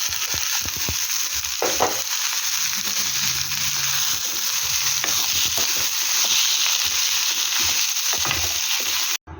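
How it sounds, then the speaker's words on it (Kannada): Onions sizzle loudly in a pan after cooked horse gram is added, with a constant frying hiss broken by scraping stirs and soft knocks. The sound cuts off abruptly near the end, no voices. "ಸ್ವಲ್ಪ ಆನಿಯನ್ ಎಲ್ಲ ಚೆನ್ನಾಗಿ ಫ್ರೈ ಆದಮೇಲೆ ಬೇಯಿಸಿಟ್ಕೊಂಡಿರೋ ಅಂಥ ಹುರುಳಿಕಾಳನ್ನ ಸೇರಿಸಿ"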